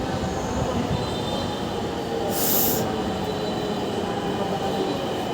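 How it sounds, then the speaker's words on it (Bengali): A metro train pulls into a station in Uttara–Mirpur, its wheels squealing over a steady rumble, with a sharp high screech near the middle as it slows; loud and continuous throughout, with no talk. "এই যে ট্রেন আসতেছে,"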